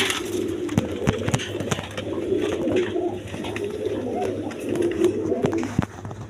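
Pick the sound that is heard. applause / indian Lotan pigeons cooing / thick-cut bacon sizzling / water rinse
indian Lotan pigeons cooing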